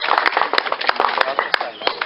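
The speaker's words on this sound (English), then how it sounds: "give them a round of applause" A crowd at an outdoor residential property auction in Hawthorn, Adelaide, applauds steadily with dense, crisp hand claps close by, while voices murmur underneath.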